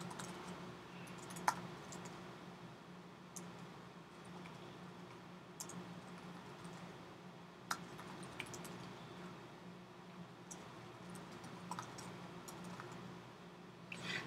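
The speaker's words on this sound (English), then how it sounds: "Just type this along real quick" Faint keyboard typing at a computer during a coding session: scattered soft key clicks in short bursts over a steady low room hum, with no voices.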